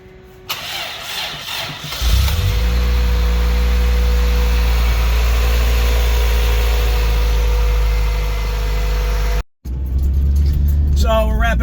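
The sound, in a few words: car driving home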